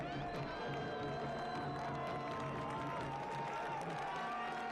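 A stadium crowd applauds and cheers soccer player Eduardo Blancas as he leaves the pitch during an AV Alta FC vs Westchester SC match. The applause is a steady, distant wash heard under continuous commentator talk.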